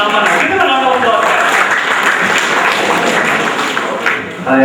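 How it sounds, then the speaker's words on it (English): An audience at a quiz competition applauds a team, a sustained rattle of clapping with a voice speaking over its opening moments. "Give them a round of applause."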